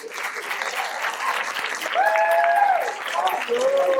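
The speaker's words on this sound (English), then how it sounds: "a round of applause for the new Petty Officer third class" Sustained applause from a crowd at a high school JROTC awards ceremony for a newly promoted petty officer third class, steady mass clapping with cheering voices and shouts rising over it.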